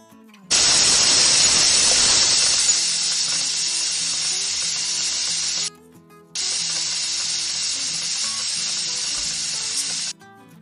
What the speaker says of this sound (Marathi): इथे बघू शकता 3 ते 4 शिट्ट्या काढून झालेल्या आहेत